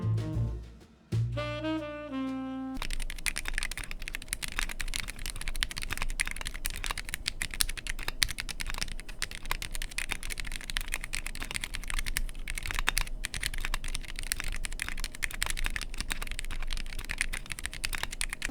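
Steady, rapid clacking of a mechanical keyboard with vintage 1987 Cherry MX Black switches, continuous and close, with dense overlapping keystrokes and no talking.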